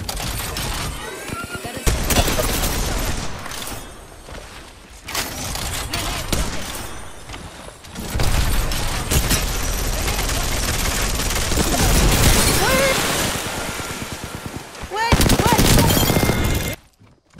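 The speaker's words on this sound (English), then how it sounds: "It's my machine gun." Rampart's Sheila minigun fires in Apex Legends, with long sustained bursts of rapid automatic gunfire broken by short gaps, loud and close.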